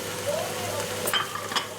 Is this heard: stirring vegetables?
yes